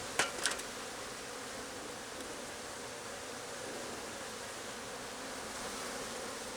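An aggressive honeybee colony buzzes all over a beekeeper at an open hive, a continuous close swarm drone with a couple of sharp knocks near the start.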